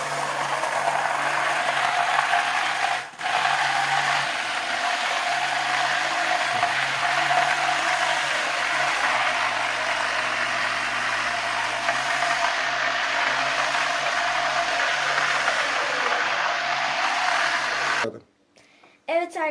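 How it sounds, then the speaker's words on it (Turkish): An electric hand mixer whirring in water mixed with olive oil and lavender to make detergent, a continuous buzzing drone that runs for most of the stretch, then cuts off abruptly near the end. "şimdi de mikserimizi şurayı geçmeyecek şekilde su içine batırıp"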